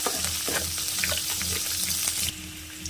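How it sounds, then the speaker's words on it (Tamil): Onions, curry leaves and mustard seeds fry in hot oil for a pepper cumin rasam, crackling and sizzling loudly up close in a short burst that quiets slightly at the end. "இப்போ இது கூடவே ஒரு கொத்து கருவேப்பிலையும் கொஞ்சமாக வெங்காயம் ஆட் பண்ணிக்கிறேன்"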